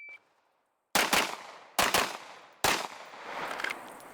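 Rifle fire on a shooting run: three loud bursts of rapid shots in quick succession, each a tight double or triple crack, separated by short pauses, close and sharp with ringing echo.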